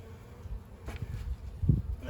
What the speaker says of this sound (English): There's not many bees in there.